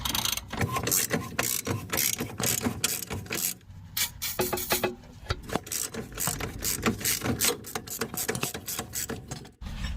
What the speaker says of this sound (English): we're just gonna go manual crank this thing down, because it just won't work. There's too much resistance on that bolt